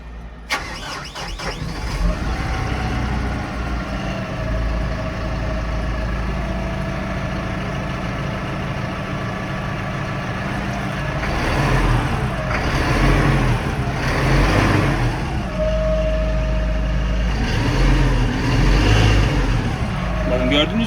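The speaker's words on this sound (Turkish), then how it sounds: "Bu traktörün bir sesini duyun isterim. Şurası boşta." A Kubota 6M-141 tractor's diesel engine idles steadily close by, a low continuous rumble, with people talking over it and the engine rising slightly midway.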